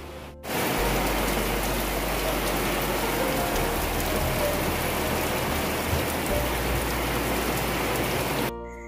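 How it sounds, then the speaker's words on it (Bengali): Heavy rain pours down in a dense, steady roar of drops hitting surfaces, loud and continuous from start to finish, with no voices over it. "তো বন্ধুরা অনেক জোরে বৃষ্টি নামিয়ে দিয়েছে।"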